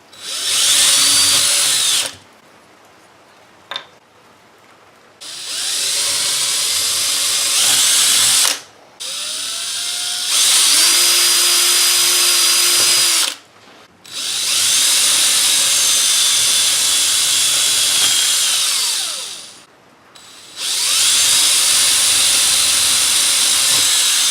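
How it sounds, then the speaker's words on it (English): A power drill with a brad point bit whines in several long bursts separated by short pauses, loud and close, its pitch shifting as the bit bites into wood. "I've got my brad point bit here, and I'm just going to drill some holes."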